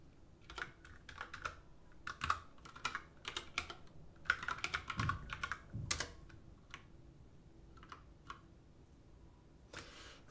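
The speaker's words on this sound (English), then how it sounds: "I'm sorry if the loud clacky keyboard is very loud and clacky." Someone types on a loud, clacky computer keyboard, close and busy, with bursts of sharp keystrokes, short pauses between them and a few scattered taps near the end.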